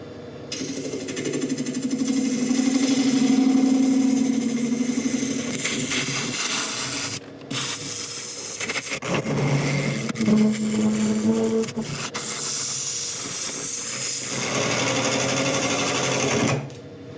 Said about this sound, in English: I'm just going to switch over to a carbide and start turning it down a little bit further